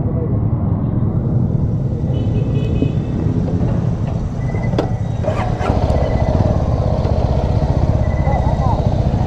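A motorcycle rides on a rough mountain road near Gingoog City with a loud, close, steady engine drone that swells slightly partway through, while people talk over it.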